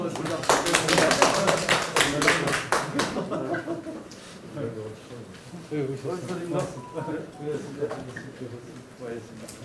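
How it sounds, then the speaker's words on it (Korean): An audience claps at a political event in Gangwon Province, a burst of rapid clapping that fades after a few seconds into chatter and murmuring voices. "큰 박수 좀 부탁드리겠습니다."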